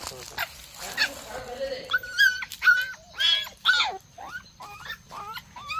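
A puppy rescued from a well whimpers and whines in high, wavering cries, close by, with short bursts repeating over several seconds.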